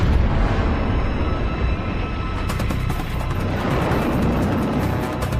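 Live torpedo detonating aboard the WWII destroyer USS Smith: a loud, sustained roar of blast and crashing debris that fills the whole stretch without letup, with no voices.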